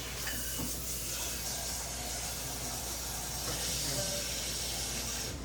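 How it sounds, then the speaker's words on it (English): Water at a rolling boil in a pot on a stove burner, a soft, continuous bubbling hiss heard close and steady throughout, with no talk over it. "I got that water boiling over there"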